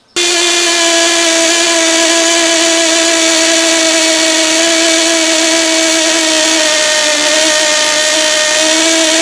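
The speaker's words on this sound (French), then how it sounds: "ouvrez la vis de richesse jusqu'à ce que le moteur s'époumonne dans un bruit de raclement" A nitro-powered RC car engine, tuned lean, screams at a constant high pitch with a rasping, buzzy edge. It is very loud and close, starts abruptly and holds steady without pauses or voices.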